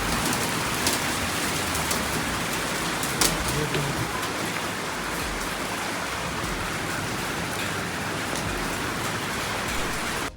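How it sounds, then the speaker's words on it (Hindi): Heavy rain mixed with hail hammers down steadily in Nainital, a dense, loud, continuous wash of drops on surfaces, with a few sharper impacts standing out briefly. "हेल स्टॉर्म, ओले पड़ रहे हैं, ओले। It's raining so heavily"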